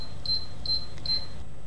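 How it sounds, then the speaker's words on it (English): A Black & Decker all-in-one horizontal breadmaker sounds its Add Ingredient signal: three short, high electronic beeps at an even pace over a faint background hum, with no talking. "an Add Ingredient signal that sounds like this and tells you when to add ingredients like nuts or raisins"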